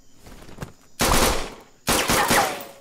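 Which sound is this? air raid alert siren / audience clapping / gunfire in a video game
gunfire in a video game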